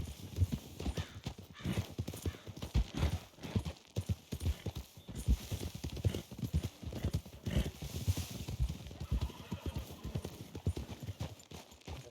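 Horse hooves clip-clop in a steady trotting rhythm in the Red Dead Redemption 2 video game, close and clear, with a whinny breaking through partway and a faint voice underneath.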